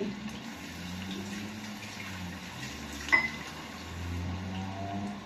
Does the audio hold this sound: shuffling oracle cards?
no